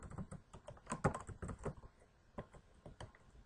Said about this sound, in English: You need to make sure that you are typing in the words spelled correctly